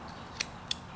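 A knife snicks into a wooden block while carving a character's head, making small triangle cuts around the eye: two short, sharp, faint clicks spaced a third of a second apart over a quiet background.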